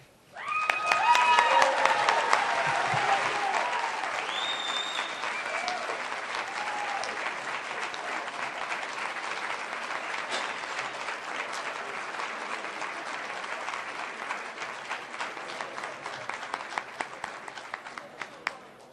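Sustained audience applause for the spring 2015 University of Wyoming graduating class at the commencement ceremony, loud and dense at first, then steady through the whole stretch, with a few voices calling out early on.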